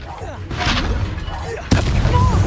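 A Confringo fire spell blasts in Hogwarts Legacy with a sharp, loud burst that cuts through the spell combat. Lighter magical whooshes and hits come before it, and a rumbling tail follows.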